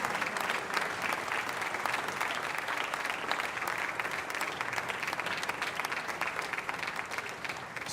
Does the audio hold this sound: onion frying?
no